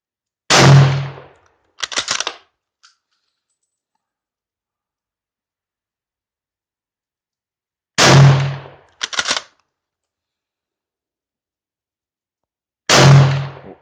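Three loud, sharp Yugoslavian M48 Mauser rifle shots ring out at an outdoor range, spaced several seconds apart, each followed by the metallic clack of the bolt being worked, with silence in between.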